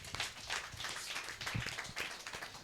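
A church congregation claps for the Lord, a brisk run of overlapping hand claps with a lively, uneven rhythm, fairly faint and roomy.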